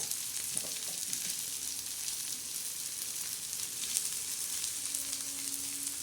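Pathri, a wild leafy vegetable, frying on a hot griddle with onion, giving a steady, fairly loud broadband sizzle throughout, with a few light scrapes early on and a faint low hum near the end.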